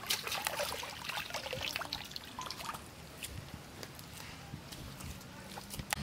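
Water running and trickling while a chitol fish is washed, a steady close splashing stream with small drips and knocks over it.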